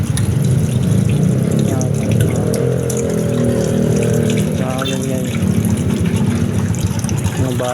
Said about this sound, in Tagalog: Mga baso naman, hugasan ko.